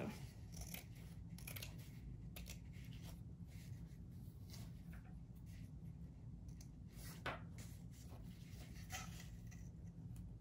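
Repeated snips and crunching cuts of scissors through fabric, coming in irregular bursts close by with no talking.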